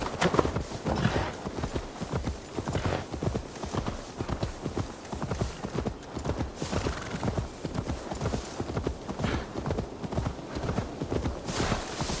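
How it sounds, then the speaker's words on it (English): Horse hooves in Assassin's Creed Valhalla clip-clop in a steady, continuous rhythm throughout, fairly close, over outdoor game ambience. "Now to deliver Magni his horse."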